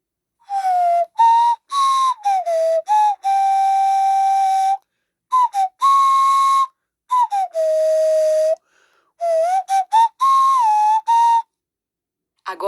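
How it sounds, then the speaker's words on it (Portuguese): An indigenous flute plays alone with a pure, breathy tone, moving through short slurred notes and longer held pitches in phrases broken by brief pauses. It is close, clear and fairly loud. "Ouça o som da flauta."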